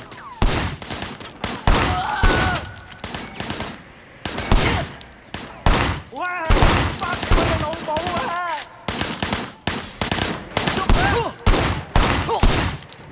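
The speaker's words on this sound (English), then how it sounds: "firing shots from the passenger window" Gunfire in the video game Sleeping Dogs, shots fired from a car's passenger window: loud repeated bursts and volleys of shots across the whole stretch, mixed with game sound effects and brief voices.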